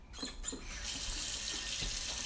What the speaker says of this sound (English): we're going to fill up the water in the pan and bring it to a boil